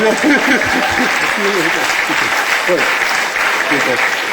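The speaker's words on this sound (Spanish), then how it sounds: "Aplaudan, por favor." A conference audience at a gathering of rectors and directors applauds, producing loud, dense, steady clapping throughout, with voices mixed in among the crowd.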